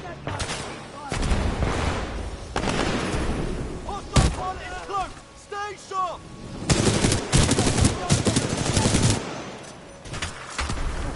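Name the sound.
sniper gunfire from bots in video game Titanfall 2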